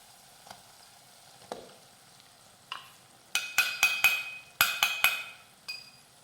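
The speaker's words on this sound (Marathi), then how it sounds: "बेसन पीठ घातलं की हे थोडंसं मिक्स करून घेऊयात" A spoon stirring gram flour into a vegetable mixture in a pan, with scattered scrapes and then a run of loud clinking strokes against the pan in a quick irregular rhythm, no talking.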